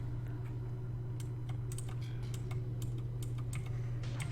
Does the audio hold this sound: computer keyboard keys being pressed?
yes